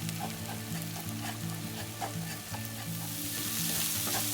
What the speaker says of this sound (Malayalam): ഇനി ഇതിൻ്റെ ഒരു പച്ചമണം മാറുന്നത് വരെ ജസ്റ്റ് ഒന്ന് ഫ്രൈ ചെയ്ത് കൊടുക്കാം.